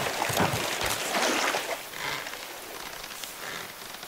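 Rain pattering down in the survival video game Raft, a steady broadband hiss that is louder for the first second and a half, then settles into a softer continuous wash with no talk.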